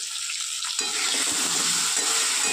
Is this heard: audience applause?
no